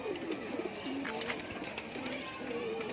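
Pahalvan-breed pigeons coo repeatedly nearby, a series of soft, low, throaty warbling calls over a steady background murmur.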